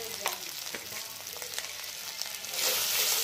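Salt, turmeric and Kashmiri chili powder fry with pieces of bottle gourd in a pan, a continuous hissing sizzle broken by light scraping stirs, swelling louder near the end, with nobody speaking.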